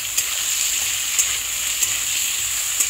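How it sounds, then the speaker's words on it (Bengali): Eggplant and tomato sizzle in a frying pan for a tangra fish curry, giving a steady, bright hiss broken by four evenly spaced stirring clicks. "বেগুন দিয়ে দিলাম"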